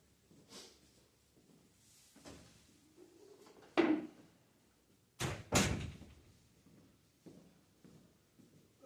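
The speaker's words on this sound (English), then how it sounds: "let me go close the door" Indoor door pushed shut, several sharp bangs and knocks with a couple of firm slams close by, surrounded by quieter shuffling and movement, no talking.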